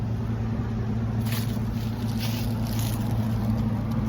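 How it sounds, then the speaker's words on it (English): A Carrier Comfort outdoor HVAC unit with a new Copeland scroll compressor runs with a steady low hum and fan whir, an even mechanical drone heard close by for the whole stretch. "It's a Carrier Comfort with a new Copeland scroll compressor."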